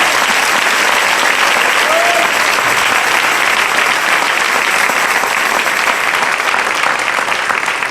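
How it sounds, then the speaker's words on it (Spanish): A church congregation gives the King loud, sustained applause during an evening service. The dense clapping of the crowd stays steady and full throughout. "Dale ese aplauso al Rey en esta preciosa noche."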